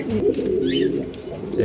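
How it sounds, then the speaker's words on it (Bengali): Large pigeons coo from a breeding loft where birds are sold, a low throaty warble with a brief higher trill midway, steady and close over about a second and a half, no talking. "বিশাল বড় কবুতর"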